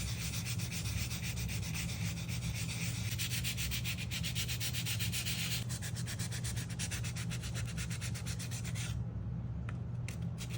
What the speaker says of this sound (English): Then I went in with a 220 grit sanding paper.